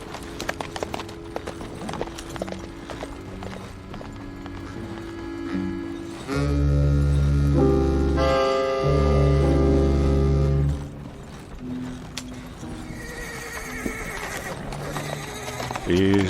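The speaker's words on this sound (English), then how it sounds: "Just me and this brave horse." Hooves clatter in a quick rhythm while a horse whinnies loudly in the middle, surrounded by ambient noise and brief voices.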